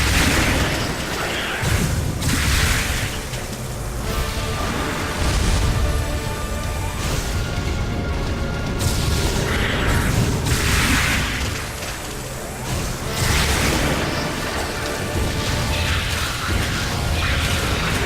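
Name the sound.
charged missiles exploding in video game Metroid Other M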